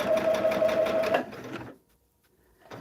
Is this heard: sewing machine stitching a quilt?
yes